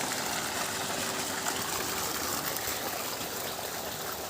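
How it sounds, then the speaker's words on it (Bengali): Water let into a farm field rushes and gurgles in a steady, dense flow, close and fairly loud, with a faint pump-like hum underneath and no voices. "জমিতে জল দেওয়া হচ্ছে,"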